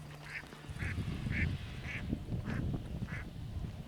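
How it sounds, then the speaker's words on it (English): Ducks quack repeatedly in a steady run of about six calls over a low outdoor rumble near a bay, the birds fairly close but moderate in loudness. "I just scared the ducks."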